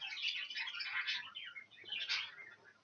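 Young show birds chirp and tweet inside a shed, a run of bright, busy calls that come in two clusters, fairly close but soft, with no talking.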